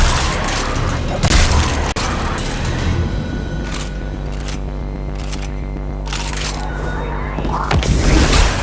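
Shotgun blasts and heavy in-game combat from Destiny 2 keep up a dense, continuous barrage of booms and cracks, with a sharp burst near the start and another toward the end over a steady droning backdrop.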